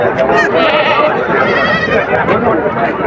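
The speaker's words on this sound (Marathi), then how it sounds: "सारे उस्मानाबादी जातीचे बोकड आहेत" Osmanabadi goats bleat repeatedly in overlapping, wavering cries, close and loud, forming a noisy chorus of several animals.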